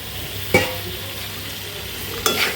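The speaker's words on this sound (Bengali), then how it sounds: "এখন আলুটা ভালো করে এই মশলার সাথে আবার একটু কষিয়ে নিব" Potato and tomato pieces frying with spices in a pan, a steady close sizzle broken by two sharp stirring scrapes, one near the start and one near the end.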